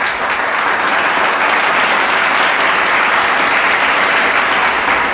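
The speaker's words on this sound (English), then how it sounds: "So I think for that we both deserve a very hearty applause" Hearty applause on a comedy podcast, a loud, dense, unbroken wall of many hands clapping at an even level throughout, with no voices over it.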